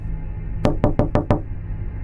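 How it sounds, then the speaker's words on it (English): Five sharp knocks land on a front door in a quiet room, evenly spaced and fairly close, fading into a low background hum as a horror story sound effect. "Suddenly, I heard a knock at the front door."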